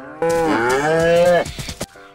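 A single cow in DayZ moos loudly, one long drawn-out low call that falls off at the end, heard up close with nothing else alongside.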